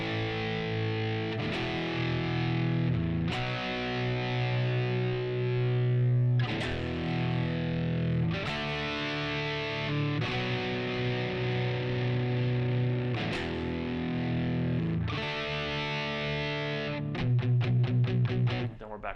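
Distorted electric guitar power chords from the chorus of a song, loud, sustained chords struck in repeated bursts and ending with a quick run of muted strums.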